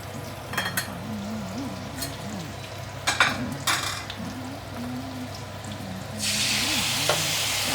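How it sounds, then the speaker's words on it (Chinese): Pork stir-fried with dark soy sauce in a wok for Kam Heong pork, a steady close sizzle with scraping stirs and a few utensil clanks, the frying hiss swelling louder toward the end. "上去炒就可以了"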